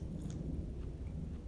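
Someone chews a bite of smoked pork rib adobo close to the mic: soft, moist mastication with faint squishy bites in a steady rhythm, and no talking.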